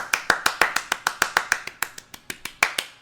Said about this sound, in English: I'm doing the Shia LaBeouf clapping